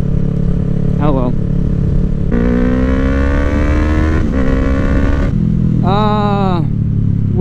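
A Ducati Streetfighter being ridden, its engine a steady loud drone with rising and falling revs and wind rush, close throughout, with the rider talking over it.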